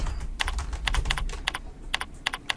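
Quick clacking keystrokes on a computer keyboard while code is entered, irregular bursts of crisp taps with brief pauses, close and clear over faint room noise.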